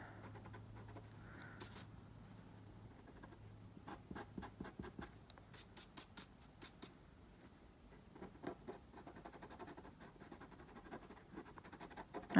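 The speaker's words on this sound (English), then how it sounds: "I'm just going to erase the pencil." Pencil eraser rubbing pencil marks off paper during a coloring session, heard as quiet scratchy strokes that come in short bursts, with a quicker run of rapid rubs through the middle.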